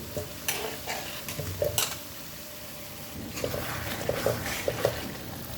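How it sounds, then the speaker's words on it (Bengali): Papaya and parboiled potato are stir-fried in a pan, giving a continuous sizzle with repeated scraping and knocking strokes of a spatula in uneven bursts. "এখন পেঁপে আর আলু হালকা সিদ্ধ করা দিয়ে দিতেছি।"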